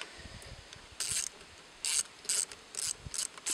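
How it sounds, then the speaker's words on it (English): A ratcheting wrench works on a Husqvarna A 65 motorcycle, giving several short bursts of rapid metallic clicking separated by brief pauses, close and clear. "you have a good place to fit your tool, wrench maybe is the word"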